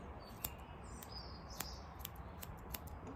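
Scissors trim the hair on a Gordon setter's feet, giving faint, crisp snips at irregular intervals over a quiet background hiss.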